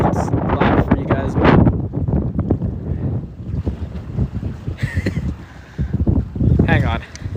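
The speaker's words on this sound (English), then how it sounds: "Yeah, it's windy here. Sorry if it's loud for you guys," Strong wind at a seaside port buffets the microphone in loud gusty rumbles, with water and harbor ambience behind, while a person talks over it throughout.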